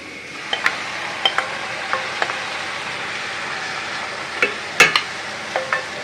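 Mushrooms fry in a pan with carrot and onion for a mushroom cheese soup, giving a steady soft sizzle broken by a dozen sharp utensil clicks and scrapes, with one loud cluster near the end.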